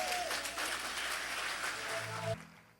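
Church congregation applauding during a healing service, a dense burst of clapping that cuts off abruptly near the end, with a faint tone beneath.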